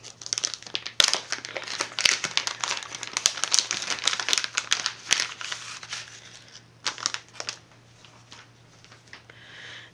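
Paper and plastic crinkle and rustle as a mailed sticker subscription envelope is opened and its contents unpacked, with close, irregular bursts of crumpling that fade toward the end.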